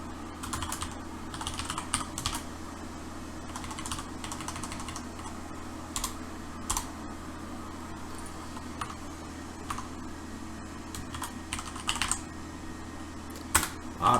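Steady, busy typing on a computer keyboard while writing code, with clicks of uneven loudness that run continuously over a low background hum.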